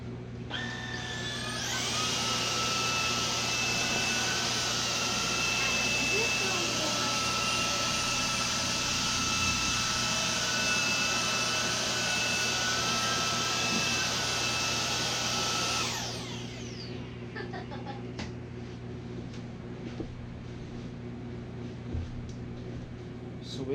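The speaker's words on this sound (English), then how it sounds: "So I'll try one pass again, this time high power, and see if it picks up" A Xiaomi Jimmy JV51 handheld vacuum runs on high power over a rug, a loud steady high-pitched whine and whoosh for about fifteen seconds, then cuts off, leaving a low background hum.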